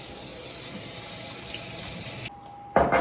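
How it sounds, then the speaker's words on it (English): Hot water running from a kitchen tap, a steady loud rushing stream that cuts off briefly, then gushes again at the end. "Hot water."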